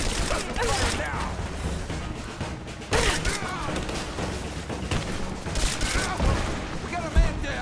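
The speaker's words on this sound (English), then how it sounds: "Give me suppression fire!" Rapid, sustained automatic gunfire in Rise of the Tomb Raider, loud and continuous with sharper individual shots cutting through, while voices shout in the background.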